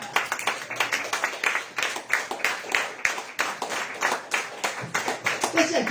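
A church congregation clapping in praise, a dense rhythmic run of hand claps repeating steadily throughout, fairly close and filling the room, with a few voices mixed in.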